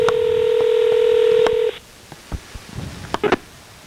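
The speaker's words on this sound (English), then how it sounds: "We're calling Freddy the producer now" Telephone keypad dialing: a steady run of DTMF tones for about 1.7 seconds as a call is placed to a producer, loud and close, followed by faint handling noises and small clicks.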